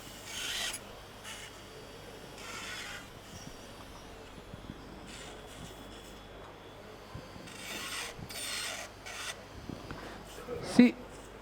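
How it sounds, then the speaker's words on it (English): A surgical drill grinds into temporal bone during a dissection in repeated short bursts with gaps between them, a faint rasping sound under quiet background noise and occasional talk. "the working surface of your drill is always the lateral aspect"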